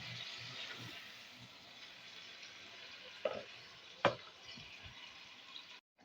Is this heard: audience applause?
no